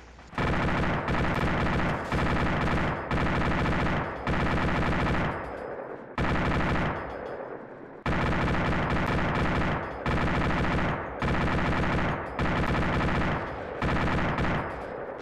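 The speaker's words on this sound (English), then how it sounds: "Something big is shooting at us." Heavy gunfire in ARMA 2 from a big weapon shooting at a vehicle crew, loud sustained bursts of rapid shots separated by brief pauses, repeating for several seconds with no voices over it.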